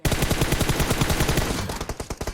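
Rapid automatic gunfire from the video game PUBG Mobile, a loud, close, evenly spaced burst of shots that slows into separate heavy bangs at the end.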